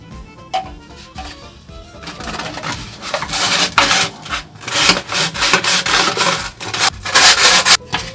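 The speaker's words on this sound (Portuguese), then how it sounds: "Então eu tenho que utilizar a lixa para poder a cola pegar de forma melhor" Sandpaper scrapes a plastic drain fitting before gluing, close and loud in steady rubbing strokes that start lighter and build into vigorous, rhythmic back-and-forth passes with short pauses between.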